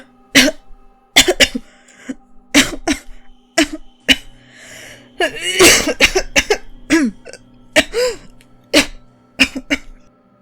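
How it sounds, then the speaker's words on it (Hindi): Repeated harsh coughing fits, loud and close, broken by short gasping breaths and throat clearing, coming in irregular bursts. "अचानक से उसे खांसी स्टार्ट हो गई।"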